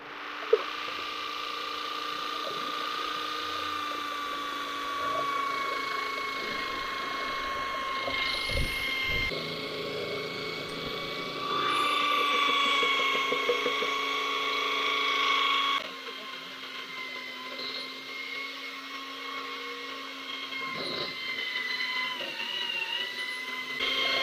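An electric DNIPRO M SH-90 paint sprayer painting a building runs with a steady mechanical whine and buzzing drone, holding level for the whole stretch with slight changes in pitch and load and a few faint clicks.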